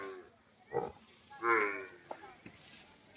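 A large Dhullaya buffalo gives two low, drawn-out moos a moment apart, fairly close, with faint background noise and a few soft knocks.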